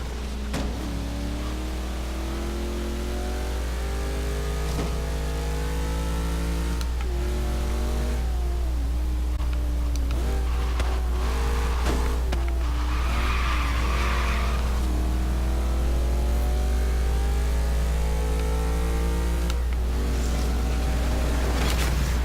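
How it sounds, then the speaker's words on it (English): A Chevy with a 4-speed gearbox in the Forza racing game screams near its rev limiter, the engine pitch repeatedly climbing and dropping between shifts, with tire squeal and skidding mixed into a loud, continuous drive. "So you're gonna hear me pegging the rev limiter a lot."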